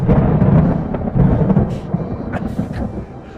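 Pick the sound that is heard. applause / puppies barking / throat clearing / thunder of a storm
thunder of a storm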